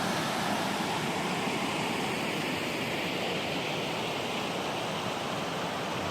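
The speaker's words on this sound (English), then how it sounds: "Beautiful creek, man, spilling down out of the mountains." Steady rushing of Toxaway Creek pouring over rocks on the Foothills Trail, a dense, constant broadband wash with no voices.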